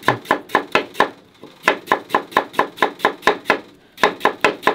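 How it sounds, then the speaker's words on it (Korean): A mother cuts potatoes into thin strips with a knife on a cutting board for Korean pancakes, giving steady, crisp, evenly spaced chops close up, with a short pause in the middle. "어머니 칼질하는 거 진짜 오랜만에 보는 것 같아요"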